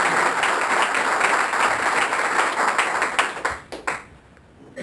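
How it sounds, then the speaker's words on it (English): Audience applauding a speaker, Assemblymember Pedro Nava, at an environmental justice event in California; steady, dense applause that tapers off and breaks into a few last claps near the end. "A big round of applause for Pedro Nava, Assemblymember."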